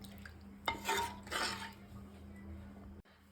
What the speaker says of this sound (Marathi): आता कंटिन्युअस हलवायचं आहे.